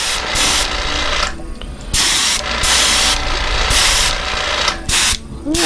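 An airbrush lays a heavier coat of paint onto a threadfin shad fishing lure, the steady hiss coming in repeated close bursts of a second or two separated by short pauses.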